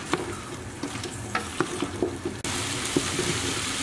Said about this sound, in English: we'll just continue cooking this till the meat is brown all over